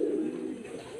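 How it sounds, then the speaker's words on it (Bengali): Pigeon chick calling on a pigeon farm, held close: a single low, soft cooing call lasting about a second, with no talk. "কবুতরের বাচ্চা"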